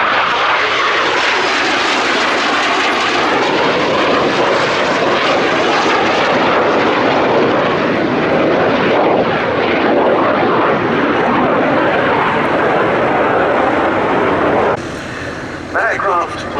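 BAC Strikemaster jet aircraft passing at the Duxford summer airshow, a loud sustained engine roar with broad whooshing that swells and shifts as it flies by, an announcer talking over it.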